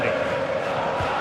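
A roaring stadium crowd in a football video game, a broad sustained murmur and chant-like swell that holds steady throughout, with a commentator's voice over it.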